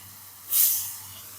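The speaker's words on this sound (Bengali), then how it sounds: "তেলের মধ্যে দিয়ে দেবো পেঁয়াজ কুচনো পেঁয়াজ কুচি দিয়ে দিলাম" Chopped onion hits hot oil in a pan while cooking a Bengali desi chicken curry, giving one sudden loud sizzle that flares and then settles into a softer steady hiss.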